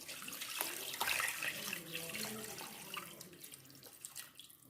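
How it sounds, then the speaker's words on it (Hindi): Water pours from a jug into a pot of beef trotters in a steady, gurgling splash that gradually tapers off, with no voices. "अभी हम 2 जग पानी का डालेंगे"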